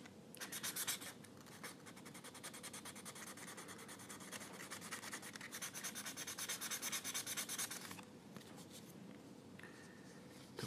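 A knife shaves thin slivers from the tip of an Iranian Dezfuli reed calligraphy pen, giving a close, continuous dry scraping that swells and eases in repeated strokes, with no voices.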